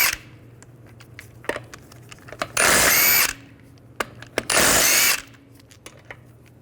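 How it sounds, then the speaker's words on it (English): A power tool with a 17mm socket spins off the front wheel lug nuts on a 1998-2010 Volkswagen Beetle: two loud, sustained whirring bursts, each a bit under a second, with scattered clicks and clanks of the socket between them. "I'm going to remove the front wheels using a 17mm socket."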